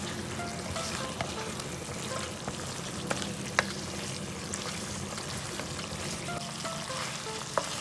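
Chicken lollipops in sauce with spring onion, stirred lightly in a pan, give a soft continuous bubbling sizzle with a few faint clinks of the utensil, fairly quiet and close, no voices.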